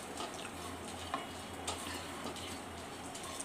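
Cardamom and whole spices frying in hot mustard oil for a katla fish curry, a steady close sizzle with faint stirring clinks throughout.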